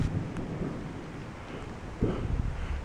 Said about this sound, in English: There's some thunder boomers in the background, pretty loud.